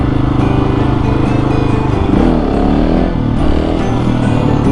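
A KTM 701 motorcycle engine revs hard and loud up close for a wheelie, a sustained droning roar that shifts pitch as the throttle is worked.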